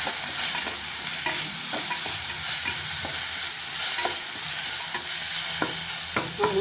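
Green chillies and okra sautéing in hot oil in a pan, a constant bright sizzle with intermittent spatula scrapes and light taps, close and without talk.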